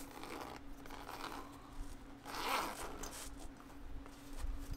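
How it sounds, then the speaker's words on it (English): A zipper on a pouch packed with a Heavy 6 keyboard and hardware is pulled open in a single close, scratchy run, with faint rustling around it and no talking. "I can just pull this out right here, you know, and I can be like, oh, look, there's a zipper"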